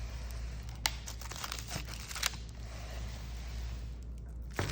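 Crinkling and tearing of the taped plastic packaging on a Costco Mediterranean Margherita flatbread, close and fairly quiet, with a few sharp rips and crackles over a low background hum.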